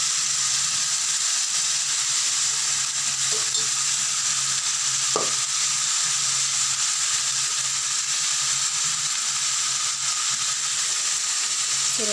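Masala frying with yogurt for chicken macaroni sizzles steadily in the pan, a continuous bright hiss with a few soft stirring clicks, close and alone without talk.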